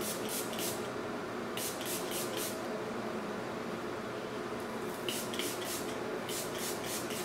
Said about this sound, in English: this is the soothing brush spray